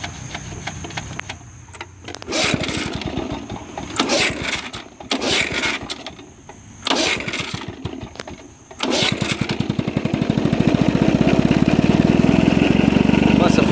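A 1964 Lawn-Boy 8222 Automower two-stroke engine is pull-started several times in short sputtering bursts with pauses between, then catches and runs steadily and loudly near at hand.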